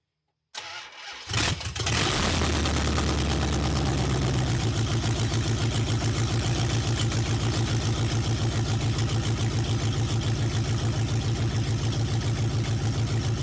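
A Dodge Ram engine with open exhaust headers cranks over, catches and settles into a loud, throbbing idle. The rapid, raw exhaust pulses hold steady right up close.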